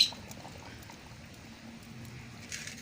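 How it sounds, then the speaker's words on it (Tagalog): Pure coconut milk poured into a pot of ginataang papaya gives a soft, steady liquid stream with faint bubbling, fairly quiet and continuous. "lalagay na po natin tong ating purong gata"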